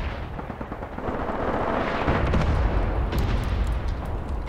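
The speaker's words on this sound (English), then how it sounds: "My mortar rounds are landing." Mortar rounds land in the Graviteam Tactics war game as a dense, continuous barrage of heavy rumbling blasts. The booming swells slightly and stays loud without pause.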